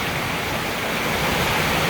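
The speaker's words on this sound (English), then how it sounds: "the sound of the running water just," Running water in a forest gives a continuous, full rush like a stream or small waterfall, close and steady with no talk over it.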